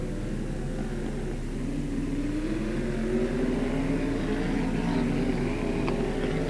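UMP modified race cars roar around Beckley Motor Speedway during a 1994 feature race, a loud, continuous engine drone with pitch slowly rising as the cars accelerate.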